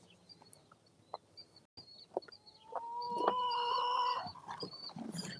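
A chicken lets out a long, drawn-out crowing call outdoors, with scattered clucks and faint rustling around it.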